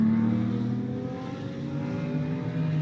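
An Audi GT3 race car in new-spec form roars steadily around the Road America circuit in a GT America race, its engine note sustained and close with a slight pitch shift as it holds speed.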